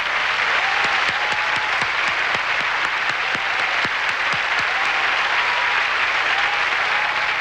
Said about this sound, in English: please join me in applauding all the contestants for the title of Miss Universe 1989